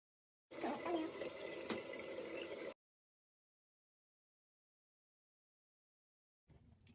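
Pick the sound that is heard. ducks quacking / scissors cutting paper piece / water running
water running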